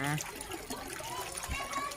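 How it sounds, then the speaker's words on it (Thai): Flowing water at the Yang Di waterfall on a sunny day: a steady, fairly loud rushing wash with a voice faintly present. "เป็นน้ำตกยางดี"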